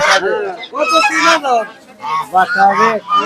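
Geese at a rural market in Pabna honk in loud, close bursts, several calls in quick succession with a brief pause partway through, over faint crowd babble.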